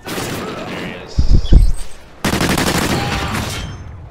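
Bursts of automatic gunfire from a multiplayer shooter game on the Whiteout map, with a loud cluster of shots in the middle of the clip amid ongoing game sound and someone talking.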